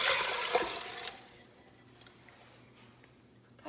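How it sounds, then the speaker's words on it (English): Water, about five cups, pours into a pot of seasoned pinto beans in a home kitchen, a loud splashing rush at first that quickly fades to a quieter trickle and stops. "Now I want to add some water."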